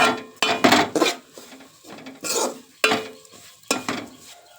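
A spoon scrapes and stirs ground powder into mustard oil in a pan, making several loud, close, uneven scraping strokes separated by short pauses.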